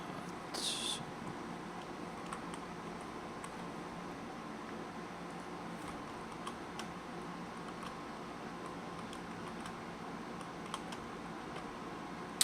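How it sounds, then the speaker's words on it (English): Typing on a computer keyboard while coding a Minecraft mod, a steady patter of faint, soft key clicks over a low fan-like hum, with no talk. "You guys are watching me fail at typing repeatedly."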